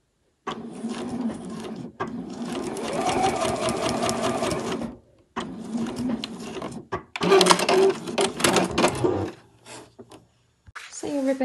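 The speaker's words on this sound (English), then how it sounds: "I'm just using a straight stitch just to hold that ribbon in place, ready for the next stage." A sewing machine straight-stitches ribbon onto fabric for a festive fabric crown, running in two long whirring bursts with a short pause between them, close and clear, then stopping.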